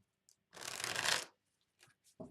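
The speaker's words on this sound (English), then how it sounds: "Let me shuffle these really quick." Tarot cards shuffled by hand in one continuous riffling burst lasting under a second, close and fairly loud, followed by a few faint soft handling clicks and taps.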